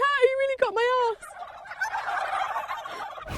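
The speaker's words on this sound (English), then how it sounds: "all the turkeys around her joined in chorus" Turkeys gobbling in chorus close by, a few loud warbling gobbles up front giving way to a busier, overlapping flock clamor that trails off.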